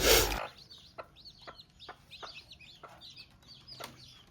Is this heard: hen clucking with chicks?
yes